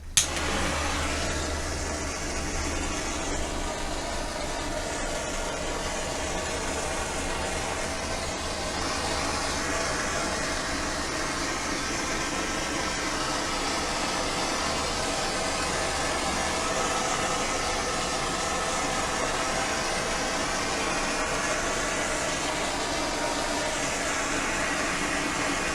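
Torch blowing a steady, continuous roar of hissing air and flame over an acrylic paint pour, unbroken for the whole stretch at close range with no voices over it.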